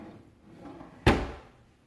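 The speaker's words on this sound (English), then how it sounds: "I'm upgrading my kitchen drawer slides from this" A kitchen drawer on old-style drawer slides shuts with a single sharp knock about midway, a loud close thud that trails off quickly into quiet room tone.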